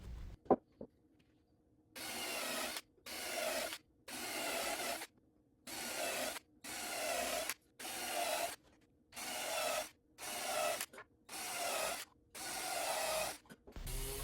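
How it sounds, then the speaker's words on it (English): Rhythmic rasping strokes of sandpaper on wood, about ten bursts of a second or so each with short pauses between, close and steady. "I then gave it a quick sanding just to knock down any rough spots or splinters."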